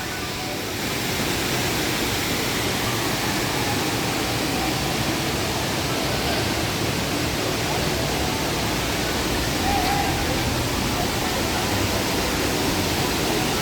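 Water rushes over Tirathgarh Waterfall in Chhattisgarh as a loud, continuous, unbroken roar that fills the whole stretch.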